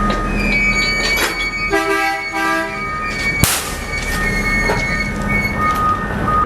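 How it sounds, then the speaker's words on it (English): Freight train cars separating during uncoupling, with loud metallic squeals and groans from wheels and couplers, a sharp bang partway through and a steady rush of background noise, close by. "As soon as the train separates,"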